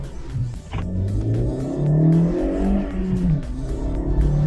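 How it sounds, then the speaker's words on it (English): A 2010 Honda CR-Z with a six-speed manual fires up and pulls away, the engine note rising and wavering as it revs under load, close and fairly loud. "put it in gear, fires right up, and away you go."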